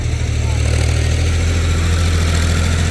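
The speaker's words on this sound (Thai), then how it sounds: "ช่วยเราขับรถไถก่อน ดันดินนี้ขึ้นไปก่อนครับเนี่ย" A tractor engine runs steadily nearby while pushing soil, a loud low throbbing idle that holds even throughout.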